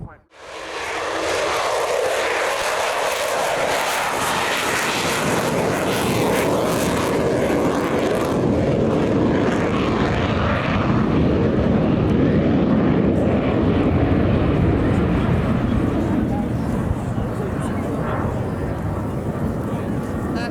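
A military aircraft roars past at an air show, a loud, sustained broadband engine rumble that swells and shifts in pitch as it flies by, with a voice talking over it throughout.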